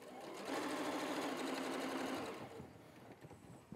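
A sewing machine stitches across a folded fabric loop for a small kitchen mini mitt, giving a fast, even, close-up whirring run of about two seconds before stopping.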